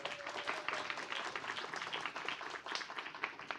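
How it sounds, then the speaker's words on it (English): Audience applause at an event where American students reflect on a journey to Indonesia, a dense steady patter of many hands clapping throughout, moderately distant and even in level, with no speech over it. "Can we give a round of applause?"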